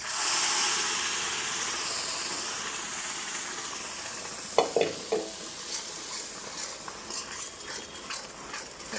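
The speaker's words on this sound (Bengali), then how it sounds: "এখন এর ভিতরে আমি এই ডাউলটা দিয়ে দেবো।" Dal dropped into hot oil in a home kitchen pan, a loud steady sizzle with steamy hiss, sharp crackling bursts as it hits, then lighter spattering and stirring scrapes.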